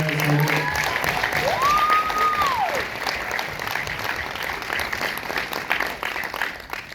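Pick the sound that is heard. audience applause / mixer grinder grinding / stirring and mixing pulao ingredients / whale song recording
audience applause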